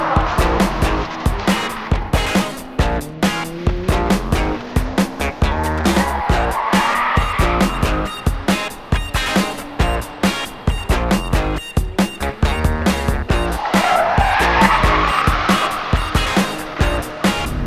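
Hyundai RN24 electric drift kart sliding hard, its tires squealing in long wavering shrieks broken by rapid bursts of scrubbing and skidding, loud and close throughout with no engine roar.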